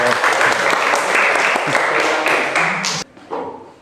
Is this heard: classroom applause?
yes